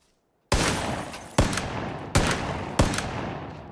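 Four loud revolver shots ring out one by one in PUBG, close and evenly spaced under a second apart, each booming blast trailing off into a long echo.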